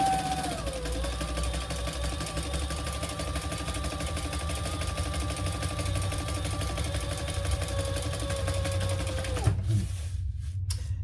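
Sewing machine stitching a crossbody bag runs steadily and close for about nine seconds, then stops abruptly, leaving a few faint handling clicks.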